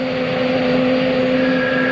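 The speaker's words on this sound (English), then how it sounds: "Course 354 will be learning to fly Gazelles, the Army's smallest and sleekest helicopter." An Army Gazelle helicopter, the smallest in service, drones steadily with a loud continuous engine and rotor whine holding even tones throughout a short stretch.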